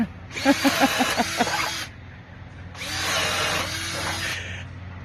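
A power tool runs on wood in two loud bursts, a whining drive with rattling pulses, then a pause and a second longer run.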